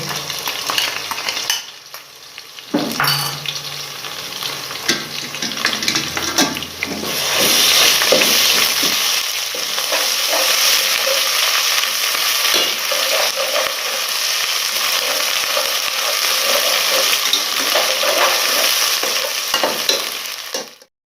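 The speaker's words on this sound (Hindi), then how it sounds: "है अदरक और लहसुन का पेस्ट। ये फ्राई करेंगे।" Ginger-garlic paste sizzling and crackling loudly in hot oil, with spatula stirring noises up close and a continuous frying hiss that swells and holds.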